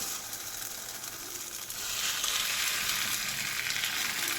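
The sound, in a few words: chempalli fish pieces added to hot pan, frying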